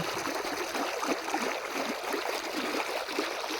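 Irrigation water runs across a farm field in a steady, continuous rush and gurgle, moderately close and unbroken, with no voices.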